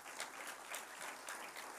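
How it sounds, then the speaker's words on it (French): An audience at a political rally applauds with a steady, dense patter of clapping, faint and distant and without a break. "Vous avez raison d'applaudir."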